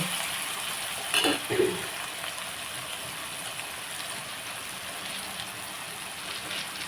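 Cashew nuts fry in a pan for a curry, producing a constant, close sizzle with a couple of brief clattering bumps early on.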